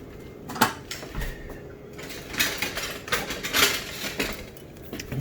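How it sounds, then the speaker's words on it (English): All-purpose and rye flour with salt being whisked together in a bowl for a sourdough boule, giving a run of light, irregular scraping and clinking strokes at close range with no talk. "And then just whisk that together a little bit."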